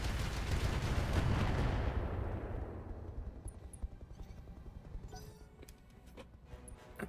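A heavy weapons volley in the BattleTech video game with the RogueTech mod hits as a loud burst of blasts, then fades into a long rumbling tail with a few faint later impacts.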